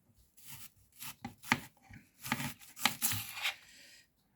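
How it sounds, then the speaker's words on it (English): A knife chops a large sweet onion on a board in a home kitchen, with irregular close thuds and slicing strokes, some in quick pairs, before stopping. "it's a pretty good size onion, so we're going to chop it up more"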